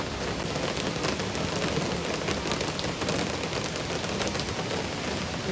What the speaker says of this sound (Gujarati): એટલો બધો વરસાદ પડી રહ્યો છે અત્યારે।